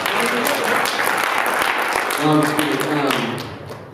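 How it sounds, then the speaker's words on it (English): Audience applause at a student government candidates' event fills the room, steady and dense for several seconds before tapering off, with voices and a brief vocal sound rising over the clapping near the end. "I think that deserves a round of applause."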